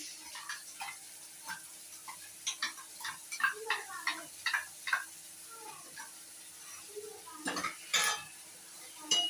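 Tomato paste and onion being stir-fried in a pan, with a run of light spoon taps and scrapes against the metal over a faint sizzle, close and moderately quiet, no voices.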